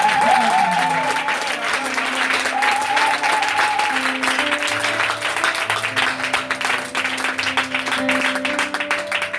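A congregation applauds and cheers at a national church vigil of a Full Gospel mission, loud, rapid clapping mixed with shouts, while sustained musical tones from instruments or singing carry underneath.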